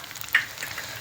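Fish frying in oil on a tawa over a low flame, seasoned with turmeric and chilli powder. A soft, steady sizzle with one brief sharper crackle partway through.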